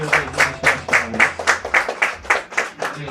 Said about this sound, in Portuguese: As tuas palmas bem fortes para o Senhor Jesus